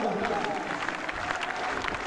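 A stadium crowd claps in rhythm for a high jumper at national track and field championships, heard as distant, steady applause under a commentator's voice.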